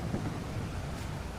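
Rain and thunder from the survival video game Stranded Deep: a faint, low rumble with soft rain hiss underneath, brief and continuous.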